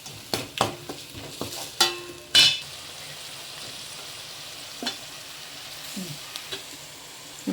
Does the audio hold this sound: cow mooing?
no